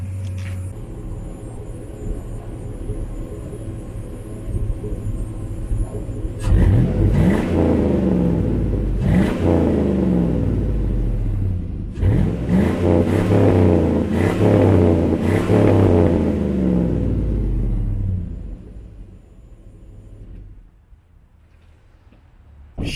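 Chevrolet Silverado single cab V8 pickup with a heavy duty front end and slightly modified exhaust, idling with a deep rumble, then revved loudly several times in repeated bursts before settling back to idle and shutting off.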